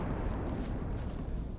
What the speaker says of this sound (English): Area attack. One hell of a firework.